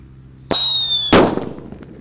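A sharp whistling squeal rises for about half a second, then a single loud paper-wrapped firecracker bang bursts nearby and fades into crackling debris.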